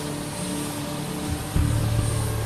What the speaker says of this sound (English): So they're doing engine startup and rotor engagement.